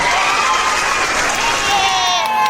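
A large crowd of roughly 2,900 fans applauds at a fan booth set up for the Thai artist Nack Charlie, a dense, steady roar of clapping mixed with scattered cheers and shouts throughout.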